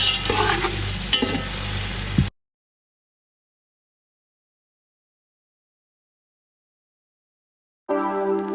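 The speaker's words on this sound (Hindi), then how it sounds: "और अब हम इसे लाइट ब्राउन होने देंगे, करीब 5 मिनट तक ये पकता रहेगा" Chicken sizzles in a pot while browning for biryani, a busy crackling fry with stirring, loud and close for about two seconds, then silence, then the fry returns briefly at the end.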